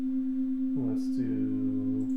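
A modular synthesizer holds a steady pure drone while a gated tone opens twice, each burst sliding in pitch before cutting off. The sound is clean and electronic, with no voices.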